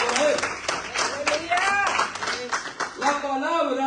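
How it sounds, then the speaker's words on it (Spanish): A church congregation clapping in applause, a scattered burst of hand claps that rises and fades under a voice speaking loudly over it. "Denle aplausos a Yahweh otra vez, porque toda la honra y la gloria es para Él."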